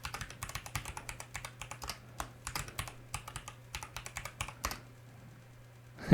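Rapid clattering keystrokes on a computer keyboard while configuring a Juniper vSRX router, uneven bursts of close, crisp taps over a low steady hum, ending in a brief pause.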